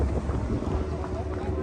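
Steady wind buffets the microphone outdoors at a car show, producing a continuous low rumbling roar with no distinct breaks.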